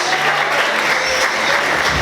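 A church congregation at a Portuguese-language service breaks into steady, dense applause, a loud, full wash of clapping filling the room throughout with no pauses.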